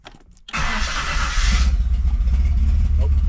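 A Reliant Scimitar car engine cranks briefly, then catches and settles into a steady, loud, close-up running rumble.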